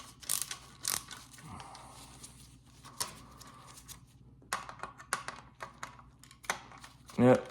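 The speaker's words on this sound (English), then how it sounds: "Get some ratchet action going." A ratchet clicks in short bursts while backing out the base screws of a 1/18 Greenlight diecast Chevrolet Corvette Grand Sport, heard faintly and close up with small handling knocks between the bursts.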